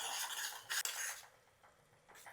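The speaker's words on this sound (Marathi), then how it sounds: "थोडी कसुरी मेथी घालायची, थोडी कोथिंबीर घालूया आणि याला परतूया." A butter tadka with kasuri methi and coriander is stirred in a pan, giving a soft hissing sizzle with a couple of brief scraping utensil sounds, close and quiet.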